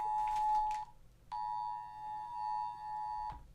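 A steady electronic beep tone sounds twice, first briefly and then held for about two seconds, faint and alone with no talk, the kind of alert a phone might give.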